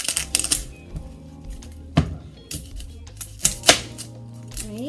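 A knife cuts the ends off a vegetable on a board: a few sharp chopping taps at irregular intervals, close and fairly quiet, with no talk.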